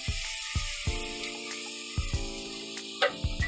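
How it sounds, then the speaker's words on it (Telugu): Grated papaya frying in ghee, a soft continuous sizzle under a series of sharp clinks and scrapes from a utensil stirring in the pan. "ఆ తురుము వేసేసి దీన్ని కూడా ఫ్రై చేసుకోవాలి"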